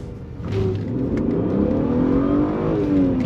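A BMW E36 M3 accelerating hard from inside the car, its engine note rising steadily through the revs, easing briefly at a shift, then climbing again, loud and close.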